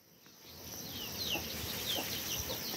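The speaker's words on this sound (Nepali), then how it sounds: "के आएर कुखुरा तर्स्यो।" A startled chicken clucks at a rural home, several faint, sharp clucks scattered through the second half against quiet outdoor background.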